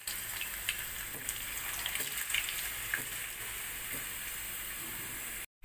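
Potatoes for dum aloo crackle and sizzle in hot oil, a steady close frying hiss with scattered pops and a few stirring clicks, no voices, cutting off abruptly at the end.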